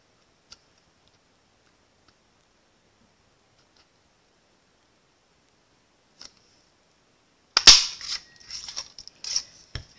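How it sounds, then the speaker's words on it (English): Bottle-shaped paper punch pressed through basic white cardstock, a short crunching clunk followed by a few light clicks and rustles, close up after near silence, with only a stray tap earlier. "now I'm going to take that bottle punch and go ahead and punch out the bottle"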